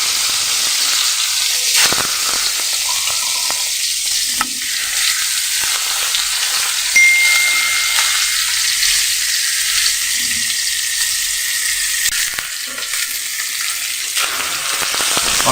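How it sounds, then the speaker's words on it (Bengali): Hilsa fish fries in oil with a loud, continuous hiss and crackle close by, with a few sharper pops and scrapes scattered through. "তেল পরিমাণ মতো দিয়ে তারপর হচ্ছে আমরা ইলিশ মাছটি ভেজে নিব।"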